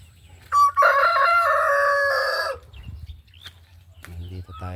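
Hens let out to roam an outdoor farm area, with a rooster crowing loudly and close for about two seconds, followed by quieter scattered clucking and a brief rising call near the end.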